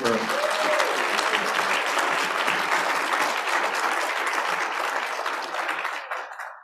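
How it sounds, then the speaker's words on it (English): A room full of people gives a big round of applause for Liz Wiseman at a hybrid meeting, loud and dense clapping that holds steady before fading out at the close. "Big round of applause for Liz."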